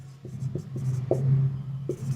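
Chalk or marker tapping and scratching on a classroom board during a physics lesson on a Pythagorean theorem problem, with short strokes and taps spread across the clip under a steady low background hum.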